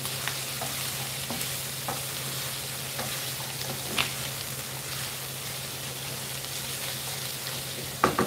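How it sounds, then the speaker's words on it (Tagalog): Carrot and chayote sautéing in a pan, a steady moderate sizzle running throughout with occasional faint stirring clicks and one louder clatter near the end. "igisa ko na lang din itong ating carrot at sayote"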